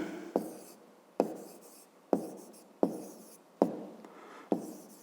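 A pen writes by hand on paper in a series of six sharp taps, each followed by a fading scratchy stroke, spaced roughly a second apart and heard up close.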